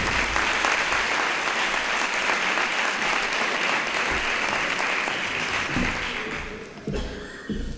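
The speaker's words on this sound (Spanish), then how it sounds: "Un fuerte aplauso para ella." At a school's twentieth-anniversary gala, the audience applauds AMPA secretary Mari Carmen Vázquez with loud, full clapping from a large crowd that thins and fades toward the end, leaving a few scattered claps and stage noises.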